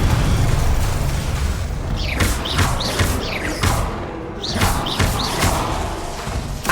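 Repeated blasting-spell explosions from the Hogwarts Legacy video game: a run of sharp bursts and thuds, roughly one every half second, over a loud, dense, continuous game soundscape with no talk.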